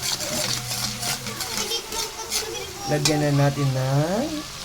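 Buttered garlic shrimp sizzle and are stirred in a frying pan, with a constant close crackle and scraping, while voices talk over it and a voice rises toward the end.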